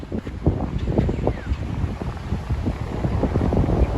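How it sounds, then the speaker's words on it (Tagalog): Strong wind buffets the microphone outdoors at a pigeon loft toss site in Santo Tomas, Batangas, a steady rumbling roar with gusty low-frequency thumps throughout. "lakas ng hangin."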